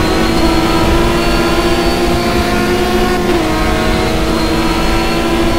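A race car in an RSA Toprace touring car race roars past with its engine revving hard, a loud, continuous, close-up drone that holds steady throughout with no voices.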